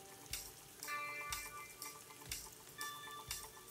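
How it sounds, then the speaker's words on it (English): Onion, ginger and garlic frying with a little salt in a pan for shrimp curry, giving a low steady sizzle broken by repeated stirring scrapes and taps about once a second. "throw it into a pan with a little bit of salt to let the onion soften"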